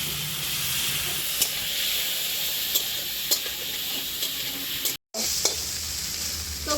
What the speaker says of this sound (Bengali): চিংড়ি মাছগুলোকে আগে ভেজে নিচ্ছি